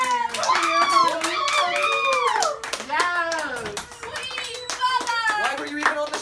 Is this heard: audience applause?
yes